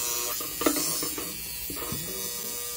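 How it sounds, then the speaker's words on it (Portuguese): Gasoline/ethanol car fuel injector on a home cleaning test rig, giving off a steady electric buzz with faint mechanical clicks, fairly quiet and continuous, with no talking. "Na hora que você conectar aqui, ó, até um teste para ver se o injetor tá funcionando ou não."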